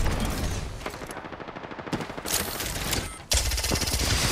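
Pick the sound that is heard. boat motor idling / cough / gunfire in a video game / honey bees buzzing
gunfire in a video game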